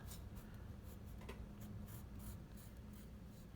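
A pencil lightly traces the outline of a leaf on paper, giving soft, close scratching strokes in short irregular bursts over a faint low hum.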